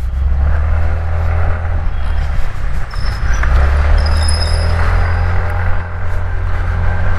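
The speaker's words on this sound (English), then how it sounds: "So let's see how does this accelerates." TVS Jupiter 125 scooter accelerating, a loud steady low engine drone with wind rush from riding, continuous and close, no talking.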